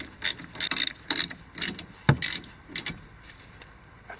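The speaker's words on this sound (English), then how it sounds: "I'll switch back to the 14mm socket. I'll tighten these two bolts." A ratchet wrench with a 14mm socket tightens the brake caliper bolts on a Nissan Versa, giving rapid bursts of close metallic clicking in several short strokes, one with a heavier clunk midway, with no talk.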